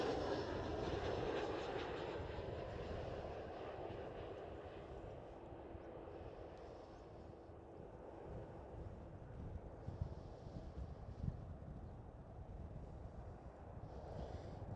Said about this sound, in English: And KLM Cityhopper E175 is here.